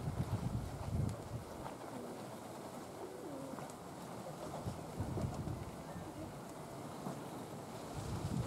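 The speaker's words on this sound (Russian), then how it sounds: "Душит страшный ветер, прям на землю он падает." Very strong wind roaring and buffeting the microphone outdoors, a constant rumbling rush with gusts swelling and easing, no talking.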